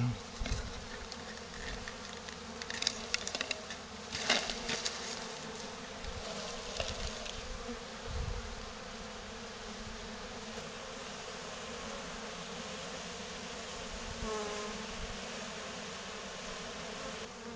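A swarm of honeybees from an escaped hive mass around a branch, filling the air with a dense, continuous buzzing drone up close, with individual bees zipping past now and then.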